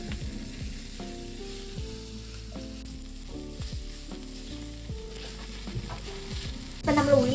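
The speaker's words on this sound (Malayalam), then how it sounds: "ഇപ്പൊ നമ്മൾ ഉള്ളി അത്യാവശ്യം നന്നായിട്ട് വഴന്ന് വന്നിട്ടുണ്ട്" Onions with a pinch of salt sauté in a pan for Kerala cooking, sizzling steadily while a utensil stirs them in repeated strokes, growing louder toward the end.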